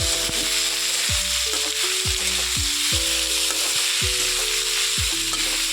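Ginger paste and cucumber stirred in a sizzling pan while cooking Bengali shukto: a steady, close frying hiss with repeated scraping strokes of the stirring utensil at a regular rhythm, and no talking.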